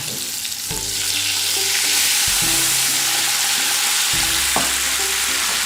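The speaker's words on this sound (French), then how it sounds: "Je glace avec le vinaigre." Vinegar poured into a hot pan used for searing beef bursts into a loud, continuous sizzle that hisses steadily throughout, with utensils scraping and clinking against the pan now and then.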